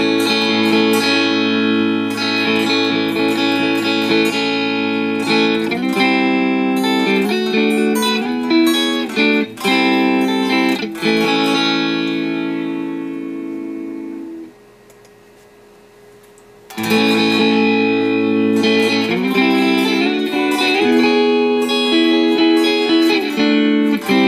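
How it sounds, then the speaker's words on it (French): Electric guitar runs through a reverse reverb rack effect in Amplitube 5, playing sustained, swelling notes. The tone drops to near silence for a couple of seconds, then the playing comes back loud and dense, with no voices. "vu que c'est un reverb à l'envers, c'est quand que tu joues, le reverb fonctionne, puis aussitôt qu'on arrête de jouer"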